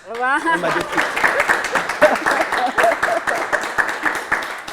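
Warm applause from a TV studio audience during a show, a thick run of clapping following a brief rising voice at the start, loud and near, with speech mixed in.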